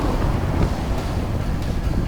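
Strong wind roars steadily across the microphone while sailing off South Lefkada, a loud, continuous rushing buffet with no voices.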